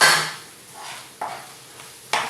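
A spoon stirs a keema biryani mixture with sauce, Maggi, salt and spices in a pot, giving a few distinct scraping strokes and soft clinks, close and moderately loud, the first stroke the strongest, with no voices.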